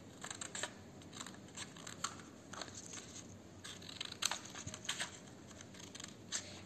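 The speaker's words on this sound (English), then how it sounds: "we have to cut it like this." Scissors snip through paper while cutting out a leaf shape for a craft wall hanging, giving a series of quiet, close, irregular crisp cuts.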